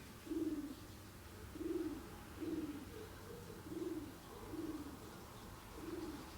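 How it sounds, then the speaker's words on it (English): Owl hooting outside in the horror video game Doctor Hauzer, a soft low call repeating about six times at a steady pace, moderately distant, over a quiet ambient hum with no talk. "There's an owl outside."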